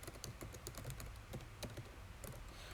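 Code is typed in Emacs on a computer keyboard, a rapid, irregular run of close, crisp key clicks with no one speaking.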